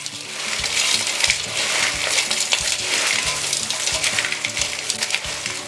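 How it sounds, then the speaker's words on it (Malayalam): Spicy Kerala mixture being tossed with chilli powder, a steady dense rustling and crunching of dry fried snack pieces, continuous and fairly loud, with a repeating low thump underneath. "ഇനി എല്ലാം കൂടി നമുക്ക് മിക്സ് ചെയ്യാം."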